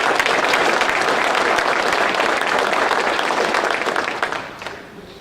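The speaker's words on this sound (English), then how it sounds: "Can we give him a round of applause?" A large audience at a detectives and deputies of the year awards ceremony claps steadily in a dense, sustained burst of applause that tapers off toward the end.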